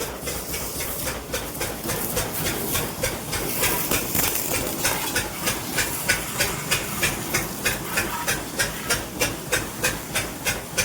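A pressure washer sprays water onto an Activa scooter. A strong, close hiss is pumped in a rhythmic, regular throb that grows more pronounced toward the end.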